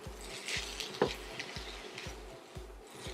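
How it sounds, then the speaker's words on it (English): Vegetables being stirred in a wok for a spicy rice noodle dish make soft scraping and rustling sounds with a few sharper utensil clinks over a low steady hum, fairly close, with no voices. "now we're going to stir our veggies a little bit"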